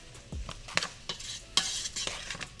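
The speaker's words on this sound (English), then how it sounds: "we want to kind of saute this until everything becomes all the vegetables become translucent" Vegetables for a red bean and rice dish sauté in a pan over medium heat, with a soft sizzle beneath repeated sharp stirring scrapes and clicks of a utensil.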